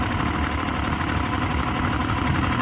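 2006 Yamaha 150 TXR two-stroke outboard engine idling after carburetor rebuild, new plugs and cables; steady, loud close-up rumble with no speech.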